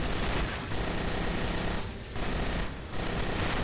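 Rapid, dense automatic gunfire in the space shooter Cryptark rattles almost continuously and loudly, broken by two or three brief pauses in the firing.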